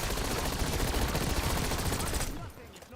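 Rapid automatic gunfire in Call of Duty: Black Ops 7 multiplayer rattles loud and continuous for over two seconds, then cuts off and trails into quieter game noise.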